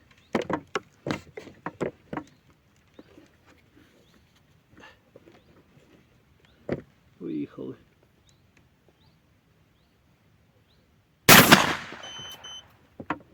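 A single sharp, loud rifle shot cracks out near the end during bullet testing, following a stretch of scattered knocks and brief quiet talk.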